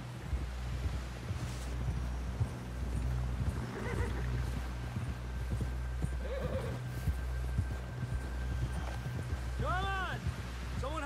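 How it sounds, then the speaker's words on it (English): Horse hooves pound in a steady galloping rhythm in the video game Red Dead Redemption, close and continuous, with wind noise, occasional neighing and voices speaking over it. "Someone help John down off this horse."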